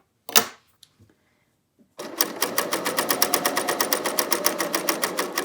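A BERNINA L 890 sewing machine stitching a knit dress: a few faint handling clicks, then a rapid, evenly pulsed mechanical whirr that runs steadily to the end, near and fairly loud.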